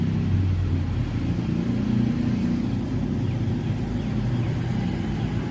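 Toyota Vigo pickup engine idling in a steady low rumble, close and constant for several seconds, with no voices over it.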